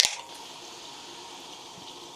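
Water is poured into a large cooking pot of food on a gas stove in a remote off-grid cabin in Lapland, a brief splashing burst at the start followed by a faint steady trickle and quiet background.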